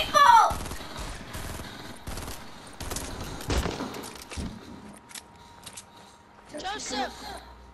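Gunfire in Fortnite aimed at a player's build: scattered sharp shots and short bursts, some loud and close, with talk from players over parts of it.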